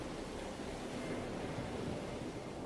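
Waves wash against rock below a cliffside bar in Dubrovnik, a steady broad surf rush with no distinct breaks, heard alone.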